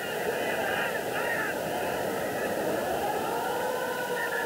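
Long steady end-of-half siren at a 1993 World Sevens rugby match between Newcastle and Port Moresby Vipers, a sustained tone held for several seconds over crowd noise.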